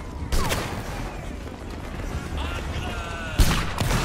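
Ragged musket volleys crack in a Napoleonic Wars battle game, two loud bursts a few seconds apart, with distant scattered shots and battle noise between them.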